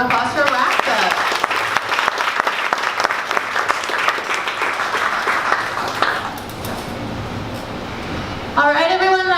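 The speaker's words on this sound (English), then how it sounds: "one more round of applause for Raft Up" An audience claps after a pitch presentation at a 1 Million Cups event in Dallas, a dense burst of applause that tapers off, with a voice speaking at the end.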